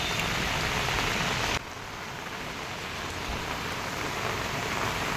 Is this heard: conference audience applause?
no